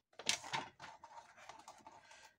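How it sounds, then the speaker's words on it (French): Paper card being cut for a handmade birthday card: a quiet, close sequence of short, crisp snipping and scraping sounds lasting about two seconds, with no talking. "je vais tout simplement pas laisser de liseré et je coupe à 14 cm"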